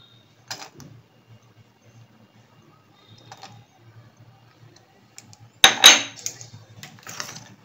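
Cashew nuts tip into pineapple chutney cooking in a pan: a few light clicks, then a short, louder burst of clattering patter as they land, with no talking.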